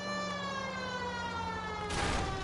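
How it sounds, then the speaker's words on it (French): A police siren wails steadily in the LA Noire video game, its rising tone layered over engine rumble from a driving scene, followed by a sharp burst of noise near the end. "vous entendez pas la sirène les gars quoi?"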